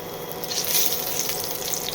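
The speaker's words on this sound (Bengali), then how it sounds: "তেল দিয়ে দিয়েছি কড়াইতে, আর চিংড়ি মাছ ভেজে তুলে নিয়েছি, জিরে ফোড়ন দিয়েছি, সাথে কাঁচা লঙ্কা" Cumin seeds and green chilies sizzle in hot oil in a wok for a bottle-gourd and prawn curry, a dense, bright, continuous crackle heard up close.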